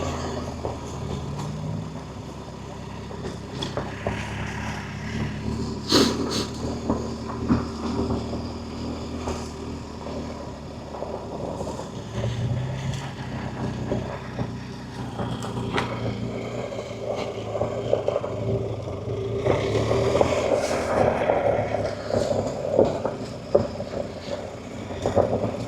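Wind rushes steadily past a helmet while riding a BMW R1250GS adventure motorcycle up a dusty mountain trail, the broadband roar mixed with low engine drone and gusting louder near the end, with no talk.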